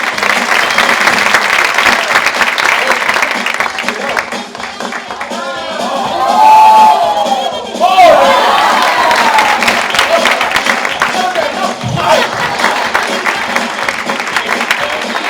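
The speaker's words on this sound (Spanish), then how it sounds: "Un aplauso a..." An audience at a children's presentation event applauds and cheers for a child named Alma, loud sustained clapping with whoops and shouts, continuing throughout.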